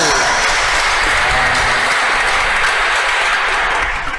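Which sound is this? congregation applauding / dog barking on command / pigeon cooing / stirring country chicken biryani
congregation applauding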